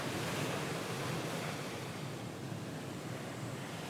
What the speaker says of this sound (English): The ocean stretches endlessly before you, and its gentle waves lapping at the shore in a soothing rhythm.